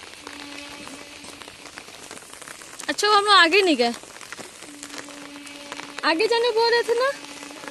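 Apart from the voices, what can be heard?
rain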